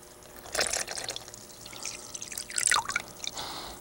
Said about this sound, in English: I'm just going to throw a fine splash of water down in the middle of this